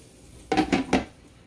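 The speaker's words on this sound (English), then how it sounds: "I'm just going to put the lid back on" Lid set back onto a pot of lentil soup: a quick cluster of three metallic clinks close by, rattling briefly and then fading into a quiet room.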